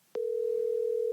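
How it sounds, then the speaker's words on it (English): A telephone dial tone on an outgoing call begins after a brief click and holds as one steady, unbroken pitched hum, clear and alone. "we are going to get him on the phone right freaking now"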